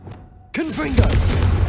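A sudden Confringo blasting spell explosion in Hogwarts Legacy hits after a quiet moment, a loud boom with a swooping, warbling tail and rumbling debris, and a voice speaks faintly at the start.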